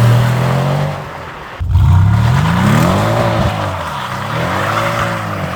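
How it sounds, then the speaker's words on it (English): A loud engine revs and drops while tires screech and squeal continuously, a close, harsh burnout with rising and falling pitch. "I could hear it during the burnout or whatever, but it almost sounded like the tire noise was louder."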